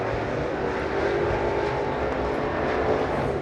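Pro Late Model race cars running hot laps at Virginia Motor Speedway, a continuous, fairly distant engine roar droning steadily across the track with no clear pass-bys.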